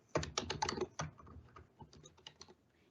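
Someone types a web address on a computer keyboard, a quick burst of close, crisp key clicks followed by a sparser, softer run of taps.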